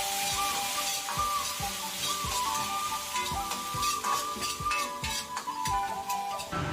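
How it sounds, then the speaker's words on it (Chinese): Sichuan peppercorns and dried chilies stir-fried together in a little oil over medium-low heat in a wok, a steady close sizzle with regular scraping stir strokes and light ticking clinks throughout. "把花椒、海椒一起倒入锅中，用中小火炒至酥香"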